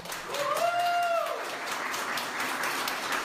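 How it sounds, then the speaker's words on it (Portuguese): Applause for a man leaving hospital, steady clapping from a group, moderately loud and close, with a brief tonal whistle-like sound near the start. "Ele foi muito aplaudido."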